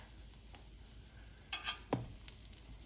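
Cheese frying in a hot pan, crisping up, gives a steady soft sizzle with a few sharper pops and spatters near the middle, close and fairly quiet with no one speaking.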